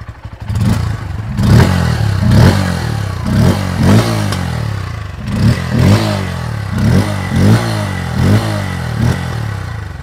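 A 2024 Bajaj Pulsar N150 motorcycle engine catches and idles, then is revved repeatedly in short rising bursts with a clattery mechanical rumble, close up.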